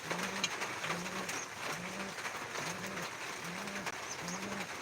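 A pigeon coos six times in an even, unhurried rhythm. The low, rounded calls sound close and moderately loud above a steady background hiss.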